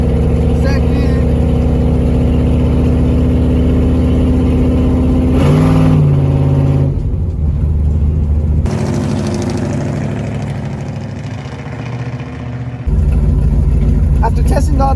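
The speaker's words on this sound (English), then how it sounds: "test drive of the actual car so we can see if everything shifts smooth and we have no issues going on with the actual shifting" A car with an automatic transmission and an electronic shifter accelerates steadily on a test drive, its engine note rising loud and close, dropping as it changes up through first and second gear, then surging again near the end.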